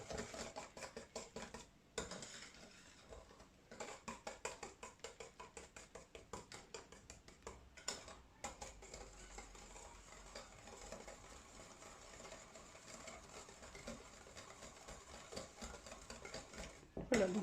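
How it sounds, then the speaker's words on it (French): Almond cream mixture is stirred in a bowl, heard as a fast, rhythmic, faint scraping and tapping of the utensil that continues steadily throughout. "Donc là je vais remuer."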